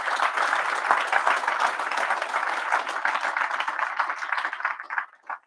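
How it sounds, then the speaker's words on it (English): Audience applause at an international conference, a dense and fairly close wash of many hands clapping that holds steady, then thins into a few scattered claps at the end. "Give them a round of applause as well."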